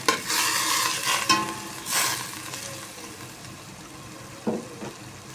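Sardines are sautéed in a pan, with a few scraping stirs over a soft sizzle that fades toward the end, followed by a couple of brief clinks.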